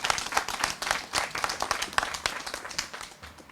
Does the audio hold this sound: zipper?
no